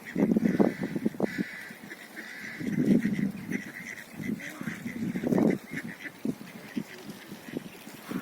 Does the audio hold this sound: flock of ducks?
yes